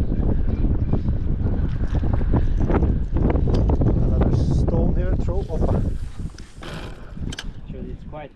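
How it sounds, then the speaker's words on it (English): Strong wind buffets the microphone outdoors on an island during a fishing trip, a loud continuous roar with gusts, while people talk over it. "Yeah, it is really windy."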